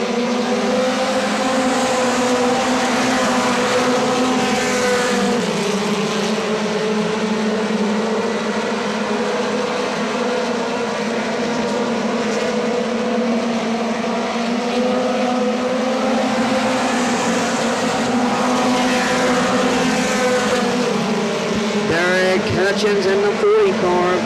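Mini stock race cars running side by side at Atomic Speedway, a continuous loud chorus of buzzing, revving engines rising and falling as they sweep past, with an announcer talking over it.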